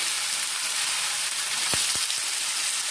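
Potatoes dropped into hot oil with cumin and whole dried red chillies, giving a steady bright sizzle throughout with a few soft knocks near the end.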